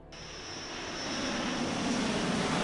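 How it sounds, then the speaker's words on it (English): Airplane sound effect from the video game Half-Life: a steady, broad roar of an aircraft engine that swells gradually louder and stays sustained, with no voices over it. "And Half-Life airplane."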